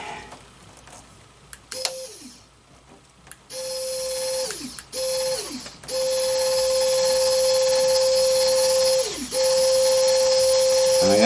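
An RC4WD radio-controlled winch motor spools rope in repeated whining bursts, each ending in a falling pitch, the last run longer and steady, with clicks between.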